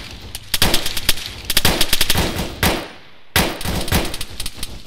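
Rapid bursts of automatic gunfire from the ARMA 3 military shooter game, several loud volleys in quick rhythmic clusters broken by a brief pause, with no talk over them.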